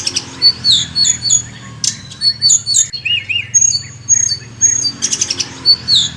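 A Kakamega greenbul in Kenyan forest gives a run of bright, clear chirps, whistles and squawky notes in quick bursts, near and loud against a quiet background.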